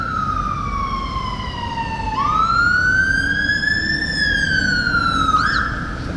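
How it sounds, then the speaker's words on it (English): Fire engine siren wailing loud and near on a London street by Horse Guards, its pitch sliding down then rising and falling again over steady traffic rumble. "It's a fire engine."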